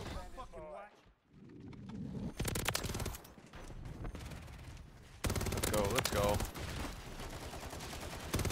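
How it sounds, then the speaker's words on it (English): Booming shotgun blasts in the Modern Warfare 3 video game, two or three heavy shots amid continuous gunfire and battle noise, loud and close. "that's a long ass fucking shotgun shot"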